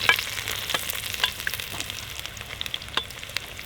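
Steady crackling sizzle of garlic and onion frying in hot oil for Manchurian, with scattered sharp pops and a few stirring clinks, no voices.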